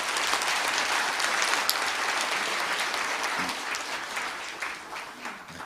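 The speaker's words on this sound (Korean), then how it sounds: "격려의 큰 박수 부탁드립니다." A hall audience applauds a wind orchestra after its encore, with sustained dense clapping that tapers slightly toward the close.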